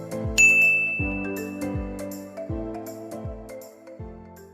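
A bright notification-bell ding rings out, then a steady series of about five ringing, chime-like strikes at even intervals, each decaying slowly, with no voices.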